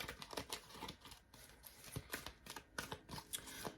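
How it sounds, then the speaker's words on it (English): An oracle wisdom card deck is shuffled by hand in quick, crisp, irregular riffling clicks and slaps, close and fairly quiet, with no talking. "I already done started shuffling"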